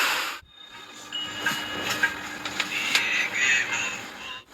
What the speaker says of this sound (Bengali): ফাইনালি আমাদের ট্রেনটা ছাড়লো